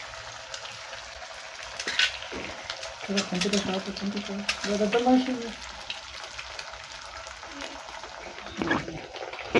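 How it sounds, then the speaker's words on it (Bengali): Salted, stirred egg fries in a pan for egg pasta, its sizzle rising and falling with scraping stirs and a few sharper crackles, close and moderately loud. "ডিমটা এখন ভাজা হয়ে গেছে"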